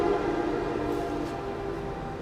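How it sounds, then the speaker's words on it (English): An Amtrak passenger train passes by with a steady, continuous rumble and a sustained tonal hum, loud and close throughout. "Put them on the Amtrak train that's going by."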